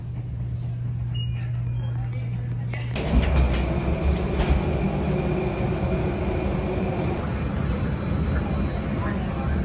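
Inside an airplane cabin while boarding, a steady low hum fills the space, and a broadband roar swells abruptly partway through and stays constant to the end.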